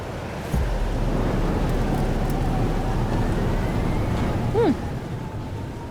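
A thunderstorm with steady rain in Life is Strange: Double Exposure, a constant hiss of rainfall that begins abruptly and holds evenly, with a brief faint chirp near the end.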